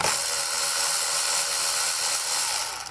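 Steady high-pitched whirring of a ratchet or power tool driving a 10 mm socket to remove nuts while an Air Lift WirelessONE compressor is installed on a 2021 Ford F-450, loud and continuous throughout with no talk.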